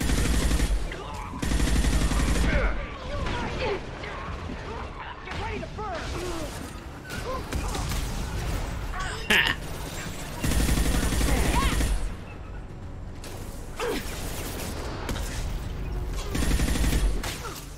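Gunfire from the Mass Effect 2 video game, with repeated bursts of automatic weapon fire and heavy blasts swelling and fading across the scene under constant battle noise and in-game voices.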